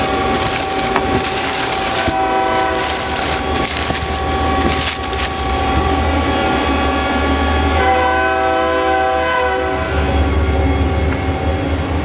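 A train rolls past close by for the full stretch, a loud steady rumble with sustained horn blasts and clanking, recorded in a workshop where a Hyundai HIT-15S CNC turning center is being shown.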